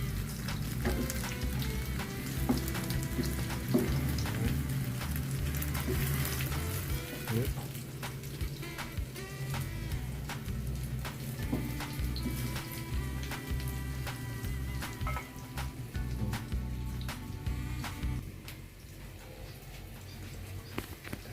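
Eggs from backyard hens frying in hot oil give a loud, steady crackling sizzle with dense popping spatter, continuous for the whole stretch and easing slightly near the end.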